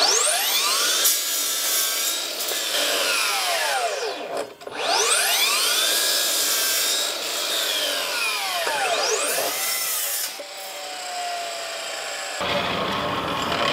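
A Dewalt 54V 305mm cordless mitre saw runs at high speed cutting wood, its blade whine sweeping up and down in repeated arcs as each cut loads and releases the motor, loud and close, then spinning down at the end.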